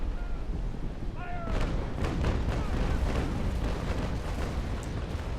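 Frigate cannon broadside firing in the Naval Action Legends video game, a rolling series of heavy booms rippling one after another for several seconds, loud and close, with a brief creak before the volley.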